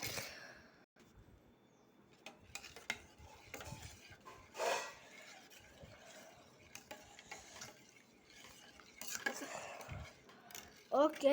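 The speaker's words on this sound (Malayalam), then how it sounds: "അതും ഇട്ട് മിക്സ് ചെയ്ത് കൊടുക്കാം" Ingredients being stirred together in a bowl, with a spoon clinking and scraping against the sides in scattered, fairly quiet bursts and short pauses between strokes.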